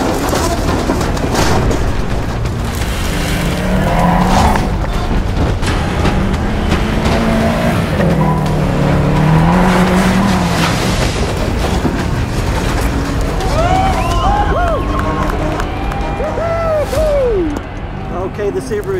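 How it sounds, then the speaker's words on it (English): A Subaru WRX STI drives down the bobsleigh run at St. Moritz, its engine droning continuously and shifting in pitch as the car moves, with a steady loud rumble and rising, falling tones near the end. "the Subaru has gone down the hill"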